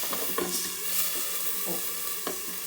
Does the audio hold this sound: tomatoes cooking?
yes